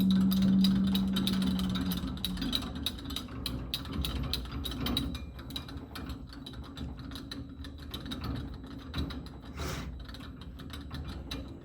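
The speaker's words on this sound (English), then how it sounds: "We want to screw this part in first, completely, before we screw the outer shaft on." Inner shaft being screwed into the electronic locking shaft of a Corghi wheel balancer, giving a steady close run of fine ratcheting, clicking mechanical turns with no one talking.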